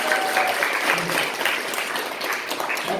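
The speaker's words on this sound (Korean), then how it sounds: "우리 응원의 박수 한번 주셔주세요" Audience applause fills a room during a church gathering, steady and sustained clapping from a crowd throughout, fairly loud and continuous with no break.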